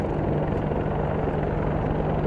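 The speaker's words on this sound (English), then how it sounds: "U.S. military helicopters test fire on South Korean soil." U.S. military helicopters test firing during target practice on South Korean soil, heard as a steady, loud rotor and engine drone that fills the whole stretch without pause and with no speech.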